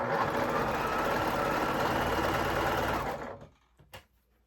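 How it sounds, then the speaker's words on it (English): Sewing machine stitching two quilt block pieces together for a gemstone block, a steady loud mechanical whir running for about three seconds, then stopping abruptly with a faint click after. "So I need to sew these 2, okay? And so I'm going to run them through."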